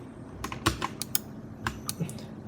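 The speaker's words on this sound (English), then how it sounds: "you can just click C on your keyboard and then press the left mouse button key" Keys are pressed on a computer keyboard during a QGIS map-making session, a scatter of crisp, close clicks in an irregular rhythm heard alone.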